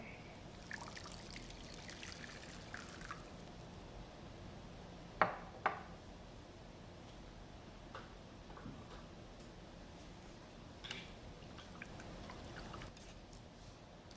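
About one and a half cups of water is poured into a seasoning mix of salt and black pepper, a faint, soft trickle with a couple of small sharp clinks, close by and quiet.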